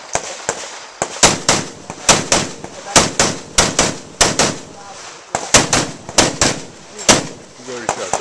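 Close rifle shots crack at a nighttime 3-gun shooting match, fired in quick sharp strings with brief pauses between groups, loud and near, and a little talk in the background.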